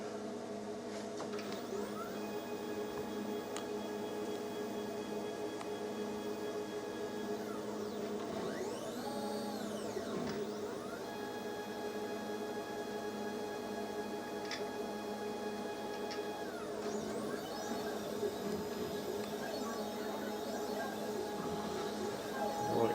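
A home-built micro mill runs continuously while cutting, a steady motor whine with shifting tonal sweeps and faint ticking rising and falling through the cut, with no talk.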